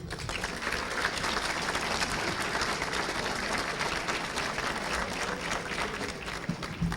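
Steady, dense applause from a large crowd at a college gala greeting a speaker, holding at a constant loud level throughout.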